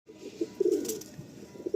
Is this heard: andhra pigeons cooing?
yes